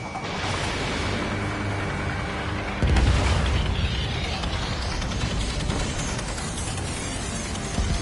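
A missile explosion in the Ace Combat 7 video game: a deep boom that swells at about three seconds over continuous roaring engine and combat noise, loud and close, with no talking.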